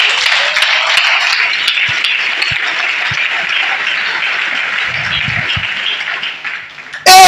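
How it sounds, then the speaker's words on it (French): Church congregation applauding, a dense, loud, sustained wash of many hands clapping at once, continuing steadily for several seconds before fading slightly. "Vous pouvez acclamer pour cet homme."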